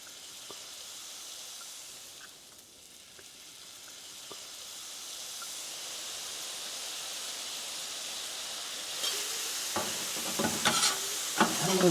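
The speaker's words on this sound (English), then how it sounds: "I'm going to stir them up" Brussels sprouts sizzle and hiss on a hot griddle as they are stirred with sweet Thai chili sauce; steady frying noise swells, and scraping clatters of the utensil come in toward the end.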